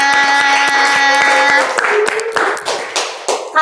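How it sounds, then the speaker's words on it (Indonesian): An audience claps in a run of sharp, fairly close hand claps over a sustained musical tone, then the clapping thins into scattered claps mixed with crowd noise. "boleh dong tepuk tangan untuk teman-temannya Kakaknya."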